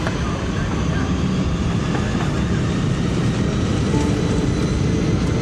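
An American Airlines jet lifts off from Detroit Airport, a steady broadband engine roar holding constant throughout with no break or change in level.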